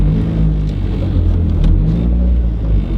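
A Mazda 3 car drives along a snowy road, its engine a steady loud low rumble with road noise and no talk over it.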